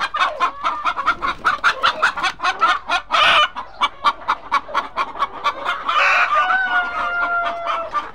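Tiger breed chickens cluck in a steady, rapid series close by, with a couple of louder rooster-like calls breaking through partway; no one speaks.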